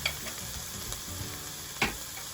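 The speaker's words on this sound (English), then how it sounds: "So I'm gonna take one of them and put them in my hot iron skillet, just like so." A pork chop sizzles in a hot iron skillet, a steady close frying hiss broken by a few sharp pops and crackles, with no one talking.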